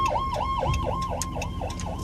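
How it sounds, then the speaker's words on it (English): Ambulance siren wailing in a steady repeating rise-and-fall pattern, loud and close over traffic rumble, sweeping past with no voices on top. "Some of y'all got to figure out how to drive and let the ambulance through."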